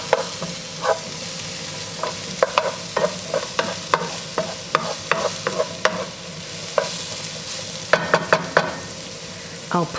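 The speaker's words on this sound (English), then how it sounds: "I have a tablespoon of olive oil in my pan, half of a purple onion I diced up" Diced half purple onion sautés in a tablespoon of olive oil, a steady close sizzle broken by frequent quick scraping stirs and taps of a utensil against the pan, busy and rhythmic, no voices.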